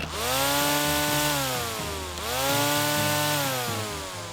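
A Dnipro-M DTC-200 cordless grass trimmer spins up twice, its close electric motor whine rising in pitch, holding steady, then winding down between the two starts.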